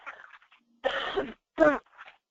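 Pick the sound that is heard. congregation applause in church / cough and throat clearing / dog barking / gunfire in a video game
cough and throat clearing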